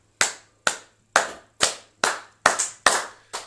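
A church congregation clapping to acclaim the Lord, eight sharp, crisp claps in a fairly even rhythm, loud and close, each ringing out briefly with no voices.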